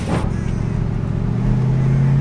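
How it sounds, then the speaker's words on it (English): A converted 6x6 Jeep Gladiator rolls along with a loud, close, steady low engine rumble that rises slightly toward the end. "Get inside, let's take it for a drive."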